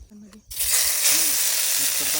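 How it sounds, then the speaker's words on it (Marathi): A sudden loud sizzle erupts as masala spice paste hits hot oil in a kadhai for chicken rassa, then a steady crackling hiss continues close up. "मसाला आपण टाकलेला आहे, आता आपण याला चांगला भाजून घेऊया।"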